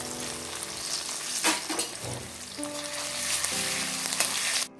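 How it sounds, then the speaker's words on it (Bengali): Onions frying lightly in oil with ginger paste added, a continuous loud close sizzle with occasional stirring scrapes and clinks, ending abruptly. "পেঁয়াজগুলো হালকা করে ভেজে নিচ্ছি।"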